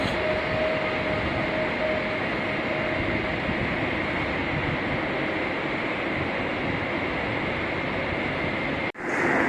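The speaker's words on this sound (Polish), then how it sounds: "Pociąg kończy bieg." Steady rumbling of a train arriving at Wrocław Główny station, a continuous loud drone with a faint tone early on, ending in an abrupt brief drop.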